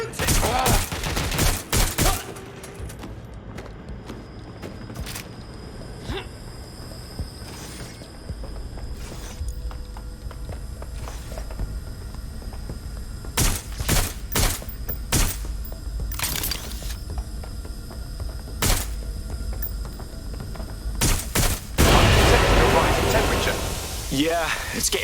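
Gunshots and sharp cracks break out repeatedly in Watch Dogs: Legion, sudden loud bursts separated by quieter stretches of game ambience and radio chatter.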